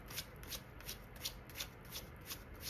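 A deck of oracle cards being shuffled in steady, regular riffling bursts, close and crisp, with no voice over it.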